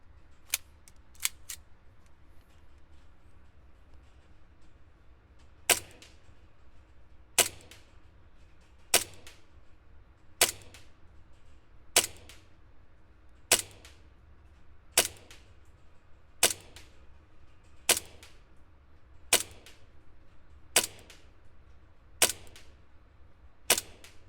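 An Arcturus Vanguard airsoft gun shoots BBs at a target 20 yards away. A few quick sharp cracks come first, then about a dozen single shots follow at an even, unhurried pace over a faint background hum.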